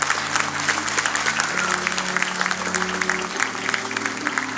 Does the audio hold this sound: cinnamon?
no